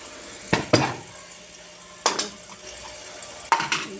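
Dishes and pots clatter in a home kitchen, three sharp bursts of clinking and knocking metal and crockery separated by quiet pauses, close and fairly loud.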